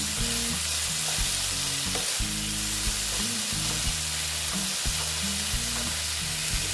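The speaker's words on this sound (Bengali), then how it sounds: "আস্তে আস্তে ভেজে দিচ্ছি" Okra coated in gram flour frying slowly in a pan, giving a constant dense hiss and crackle at even loudness with a low steady hum underneath, no talking.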